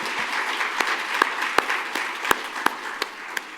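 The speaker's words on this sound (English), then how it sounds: "One more final round of applause for our speakers this afternoon." An audience at an algal bloom science conference applauds its speakers, a dense, steady clapping wash with a few sharp individual claps standing out, and no talk.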